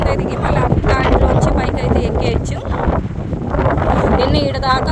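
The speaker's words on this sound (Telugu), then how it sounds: "అసలు విపరీతమైన గాలి, వీడియో షూట్ చేయడానికి అయితే అస్సలు కుదరలేదు" Strong wind blasts across the Maldives water villas, a loud, continuous buffeting roar on the microphone with gusts rising and falling, and a voice faintly under it.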